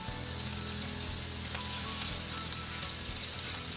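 A chuck eye steak sears in a hot pan with a steady, loud, continuous sizzle that fills the whole stretch without pause.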